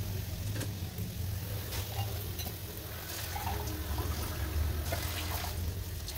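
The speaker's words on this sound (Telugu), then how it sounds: "ఇందులో కొంచెం వాటర్ వేసుకోవాలి." Water trickles and splashes into a pot of ivy gourd curry over a low background hum, with a few soft clinks, no voices.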